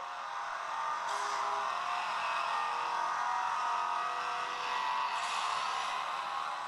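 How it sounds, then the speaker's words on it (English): A race car engine drones and whirs steadily in the racing video game Need for Speed Most Wanted, playing on a phone speaker, with a couple of brief higher-pitched swells, and no one talking. "Now we move on to Need for Speed Most Wanted, another high-end racing game."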